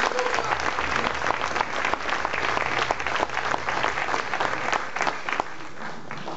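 Lively applause from a crowd greets a Peruvian festive band, a continuous wash of clapping that stays full and steady before easing slightly near the end.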